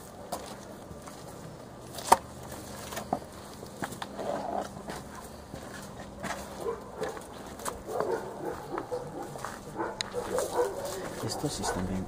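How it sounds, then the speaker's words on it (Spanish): Dogs whimper and howl in faint, scattered bursts around an abandoned site in San Juan del Obispo, with occasional sharp knocks and people talking quietly throughout. "Oye, están aullando los perros."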